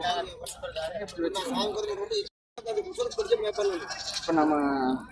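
Goats bleat at a goat market in Kunnathur, several loud wavering cries close by, with people talking in Tamil between and over them.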